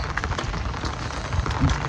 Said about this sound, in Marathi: वा कसं पाणी पडते इतका जोरात पाऊस आला